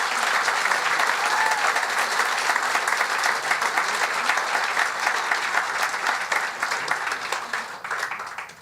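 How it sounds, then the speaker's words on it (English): An audience at an Australia Day awards ceremony gives a round of applause, a full, loud spread of many people clapping that holds steady for several seconds and then tapers off at the close. "So can we have a round of applause for all the work that those people do?"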